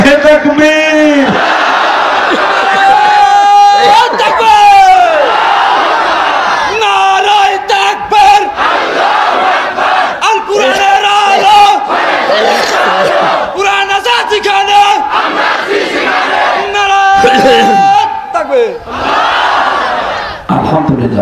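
A large gathering answers a takbir call with loud, massed chanting in repeated, rhythmic waves of voices. The crowd roars close and full throughout, with a leading voice calling between the responses.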